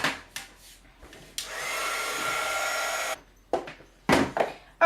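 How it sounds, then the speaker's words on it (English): A handheld embossing heat gun for crafting blows a steady airy whir for a couple of seconds, framed by scattered clicks and handling knocks before and after. "I'm going to get my embossing gun here."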